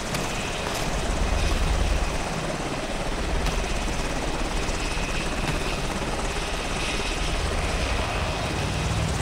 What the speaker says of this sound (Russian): Вертолет заведен?